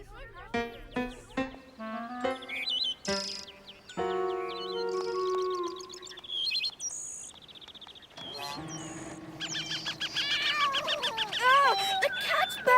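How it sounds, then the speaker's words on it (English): Cartoon soundtrack with a cat meowing and caterwauling among musical tones, chirpy bird-like calls and dings, voices speaking over the busy mix. "The cat's back!"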